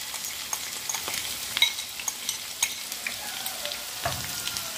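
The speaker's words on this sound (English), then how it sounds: "now I will let it all fry together" Mustard seeds, onion, garlic and dry chilies fry together in oil with a constant sizzle, sharp crackles and scattered pops, heard up close and alone.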